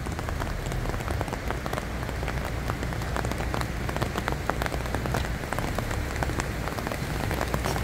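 Steady, dense rain pours down over the flooding Itajaí-Mirim river in the center of Brusque, a loud continuous patter with scattered sharper drops and no voices.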